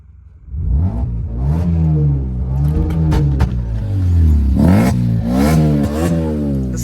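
A modified Maruti Suzuki Swift with a customisable rear exhaust revs up and down repeatedly, its engine note rising and falling in loud, close sweeps with a few sharp crackles.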